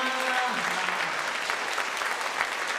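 A church congregation at a Presbyterian Sunday worship service claps to welcome a visiting pastor, with dense, steady applause filling the hall throughout and a few brief tones sounding at the start.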